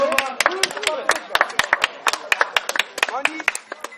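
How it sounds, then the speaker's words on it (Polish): Clapping from a crowd at a medieval festival combat event, as a fighter is introduced: a scattered run of sharp claps over about four seconds, with voices talking over them. "wielkie brawa"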